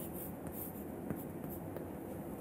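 Marker or chalk scratching across a board during a lecture, with a steady soft rubbing texture and a few brief taps, fairly faint with room noise.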